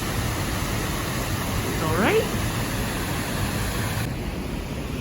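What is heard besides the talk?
Öxarárfoss waterfall in Iceland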